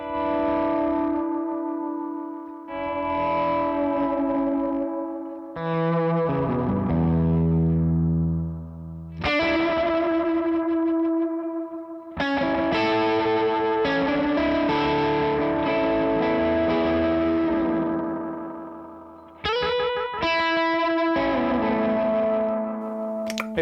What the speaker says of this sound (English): That was a original run first edition Boss DM2, the greatest delay pedal of all time